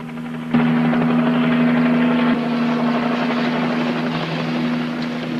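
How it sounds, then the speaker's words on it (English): A helicopter's steady rotor thrum and whine starts abruptly and holds, fairly close and loud, slowly fading a little toward the end. "That helicopter watching for him?"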